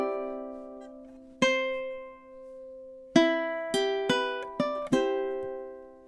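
Ukulele playing measures 19 and 20 of a song, a few plucked notes and strummed chords ringing out and decaying in slow time, close and clear with no talk.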